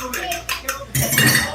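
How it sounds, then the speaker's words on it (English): Eggs being whisked in a bowl for gluten-free cinnamon rolls, a quick series of close metallic clinks and taps against the bowl, growing busier toward the end. "we're supposed to whisk these, so we'll just beat these up"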